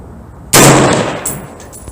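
A 6.5 Creedmoor AR-10 rifle fires a single loud, sharp shot at a 100-yard range, a sudden crack followed by a decaying echo and a faint second reflection.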